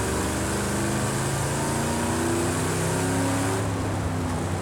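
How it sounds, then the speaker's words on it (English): A car engine with its carburetor in the racing game Project Cars 2 drones steadily and loudly, with a rich harmonic hum that holds throughout and no one talking. "You can hear the carburetor."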